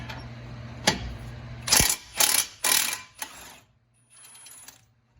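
Ratchet wrench loosening 7/8 bolts on a car's front brake caliper bracket during a CV axle replacement: several loud, separate bursts of rapid ratcheting clicks with short pauses, then quieter fainter clicking at the end.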